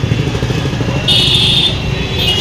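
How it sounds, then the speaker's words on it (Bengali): A motorcycle rides along a road, its engine droning steadily and loudly up close, with a high whine rising midway. "বাইক নিয়ে বেরিয়ে পড়েছি, যাওয়া যাক বাড়িতে।"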